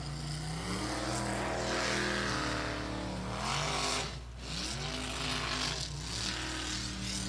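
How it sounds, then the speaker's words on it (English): A racing boat's engine roars loudly and steadily, its pitch rising and falling as it revs with propeller cavitation, with a brief dip midway before the roar returns. "You could hear the engine revving up, the back end kind of sunk down."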